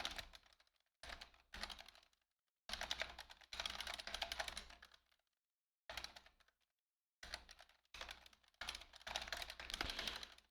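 Python code being typed on a computer keyboard: bursts of quick, close keystroke clicks separated by short silent pauses, with no talk.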